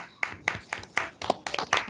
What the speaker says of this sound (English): Deepa, just give her a round of applause.